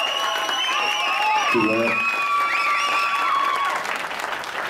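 A crowd at a community event in Tennant Creek claps steadily throughout, with whistles and cheers over the applause and a brief spoken voice partway through.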